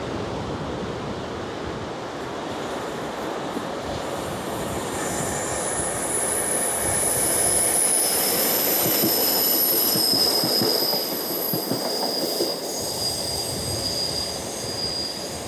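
A train rolls past at Braunton, its rumble steady for the whole stretch while high metallic wheel squeals ring out over it, growing louder midway.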